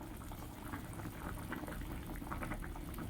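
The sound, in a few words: fish curry broth with thankuni leaves boiling in a pot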